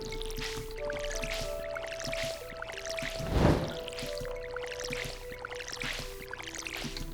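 Watering crops with a watering can in the Stardew Valley video game gives repeated soft splashing and dripping water effects over a steady game music tone, with one louder splash in the middle.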